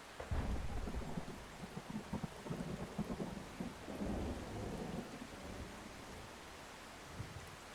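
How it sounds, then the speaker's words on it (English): Heavy rain pours in a storm in the Outbrk weather-chasing game, a loud continuous wash of downpour with rumbling low thunder swelling throughout, easing slightly toward the end. "here comes the rain curtain"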